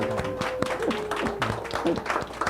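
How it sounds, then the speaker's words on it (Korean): Congregation clapping during a confirmation service in an Anglican church, scattered applause under a sustained hum and some background voices, moderately close. "오, 박수 환영합니다"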